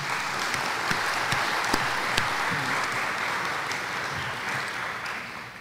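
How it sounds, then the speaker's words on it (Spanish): Audience applause at a book presentation welcoming Father Rodolfo Cardenal, many hands clapping in a dense, steady roar with a few sharper individual claps standing out near the start. "pedimos un aplauso para el padre Rodolfo Cardenal"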